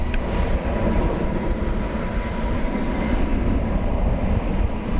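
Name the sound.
FedEx aircraft at DFW Airport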